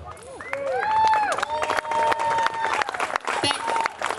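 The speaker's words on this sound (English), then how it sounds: "You hear that clapping?" Guests at an outdoor gathering clap in a scattered, sustained patter while voices talk and call out over it nearby.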